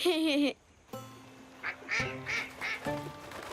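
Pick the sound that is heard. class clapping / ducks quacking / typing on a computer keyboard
ducks quacking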